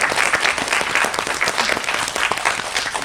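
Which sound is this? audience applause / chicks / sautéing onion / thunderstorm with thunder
audience applause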